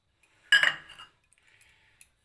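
Steel baking bowls clink and knock together as they are greased with white oil by hand for an eggless sponge cake, one loud metallic clatter followed by a few faint taps.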